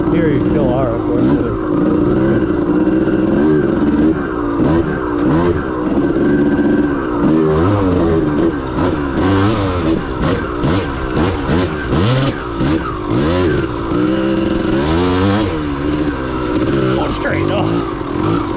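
A 1992 Kawasaki KDX200 two-stroke dirt bike ridden through sugar sand, its engine buzzing and revving up and down continuously close to the microphone, with the rider talking over it.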